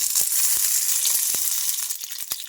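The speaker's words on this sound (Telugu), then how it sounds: "మనకు మిర్చి బాగా ఫ్రై అయిపోవాలి." Sliced green chillies and chopped ginger fry in oil in a kadai with a loud, dense, crackling sizzle, broken by a handful of short knocks and taps of stirring, close up and without talk.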